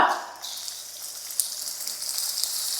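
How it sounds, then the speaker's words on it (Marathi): Onion dropped into hot oil in a wok, sizzling steadily with a hissy, rain-like crackle that stays fairly faint throughout, with a brief louder burst at the start and occasional pops. "तेल तापलं ह्यात टाकूया कांदा"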